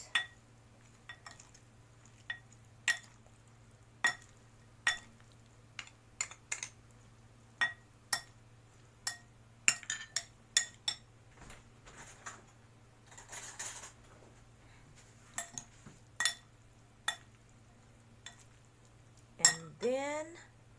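Cabbage salad dressed with salt and olive oil being tossed in a bowl with utensils, sharp irregular clinks and taps against the bowl over a low steady hum, one brief rattle near the end.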